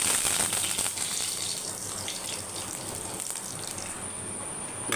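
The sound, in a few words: curry leaves sizzling in hot oil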